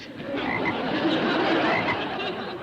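A caged frog croaks in a dense, continuous chorus of raspy, rattling calls, close and fairly loud, with no voices over it.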